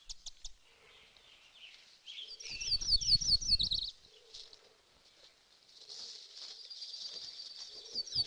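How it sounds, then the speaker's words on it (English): A myrtle warbler singing in wild country, rapid high thin trills repeated across the stretch, fairly faint, with a rumbling low noise burst partway through. "It's a myrtle warbler."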